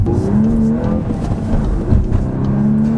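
Volkswagen Golf R with a manual gearbox accelerates from around 2,500 rpm, its engine note rising smoothly and strongly. The sound is close and loud, with a slight rumble underneath.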